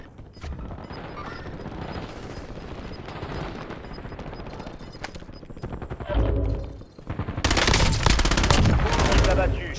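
Call of Duty Warzone gunfire crackles as loud automatic bursts and shots, mixed with game voice lines and other battle noise throughout.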